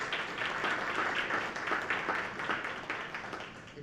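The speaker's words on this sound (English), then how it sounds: "Big round of applause for Maria Cockcroft." Sustained applause from an audience at a school board meeting honoring a high school parent club representative, dense and steady throughout, fading slightly toward the end.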